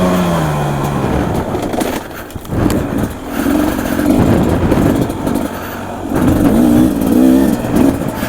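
A Beta dirt motorcycle engine revs continuously while being ridden, rising and falling in pitch with throttle changes; loud and close throughout with no talk.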